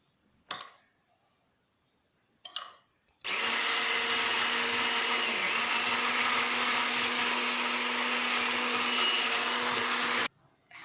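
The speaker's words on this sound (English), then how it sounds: "we stir the egg whites with half of the sugar until it is foamy" An electric mixer whisks egg whites with sugar, running as a loud, steady high-pitched whir for about seven seconds after a couple of brief knocks, then cutting off abruptly.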